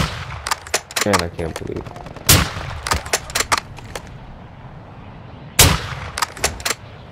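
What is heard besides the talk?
gunfire in the video game Call of Duty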